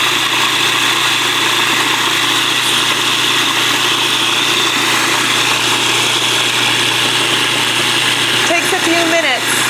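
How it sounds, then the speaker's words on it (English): Food processor running steadily while blending homemade healthy Nutella-style chocolate spread, a loud continuous motor whir with constant pitch, and a few faint squeaks near the end. "You're just gonna put it on your food processor and you're gonna run it for a few minutes"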